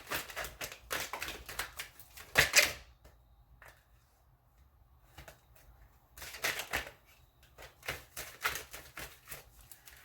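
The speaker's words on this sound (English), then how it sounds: "my shuffling is vigorous" Tarot cards are shuffled vigorously at close range in rapid bursts of riffling and slapping, separated by a near-silent gap before the shuffling resumes.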